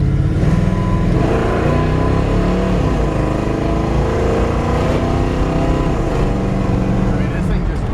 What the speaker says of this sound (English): Just listen to the exhaust.